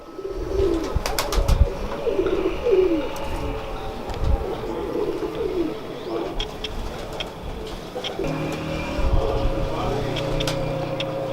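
Old ringed pigeons coo repeatedly in a loft, their low rolling calls rising and falling across the whole stretch, close and fairly loud, with a voice talking over parts of it and some background rustle.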